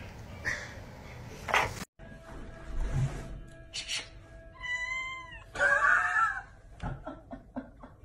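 A cat meows several times, with drawn-out, wavering cries and some short chirps, fairly close and with no talking.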